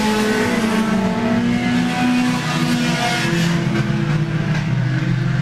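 4-cylinder division race cars on the Laird Raceway dirt track roar past close by, their engines overlapping in a continuous, loud revving drone with shifting pitch as the pack goes by.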